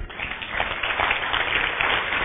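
A church congregation applauds God during a sermon on essential church doctrines, a continuous wash of many hands clapping at an even, moderate level with no pause throughout.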